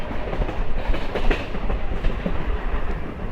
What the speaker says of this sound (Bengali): হাবিবপুর থেকে গাড়ি বেরোচ্ছে দুর্দান্ত গতিতে।